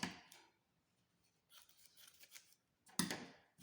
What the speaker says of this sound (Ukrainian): розрізаємо навпіл і складаємо ще раз, щоб вийшли ось такі квадратики невеличкі.